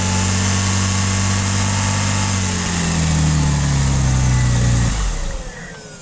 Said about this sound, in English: normal engine noise, nothing really spectacular